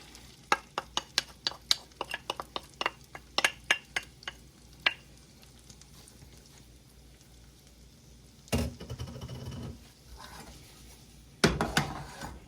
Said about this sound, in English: And if you can hear that sizzle,